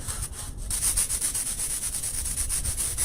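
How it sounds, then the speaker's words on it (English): Steady, continuous sanding with rhythmic back-and-forth rubbing strokes, close and fairly loud, no voices. "there's some sanding you need to do"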